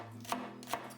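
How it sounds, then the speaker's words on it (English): Two crisp knife chops through green onion on a cutting board, close and clear in a quiet kitchen with no talking. "And then I'm going to chop these green onion"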